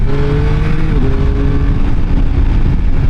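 A 2021 Yamaha Tracer 9 GT motorcycle riding on twisty roads, its engine droning loud and steady with shifting pitch under heavy wind rush.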